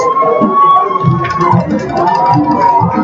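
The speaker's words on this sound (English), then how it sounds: "Let's give a round of applause for Miss JHS, Miss Karina Cortez." A crowd at a Jonesboro vs. Riverdale high school football game claps and cheers in a steady roar during a homecoming presentation in the stands, loud and continuous with mixed voices throughout.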